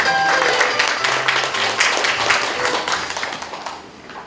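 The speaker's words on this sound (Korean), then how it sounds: "다시 한번 따뜻한 박수로 맞이해 주십시오." A ceremony audience for UN Habitat Korea's World Habitat Day gives warm, sustained applause welcoming the committee chairman to the stage, many hands clapping steadily before gradually tapering off.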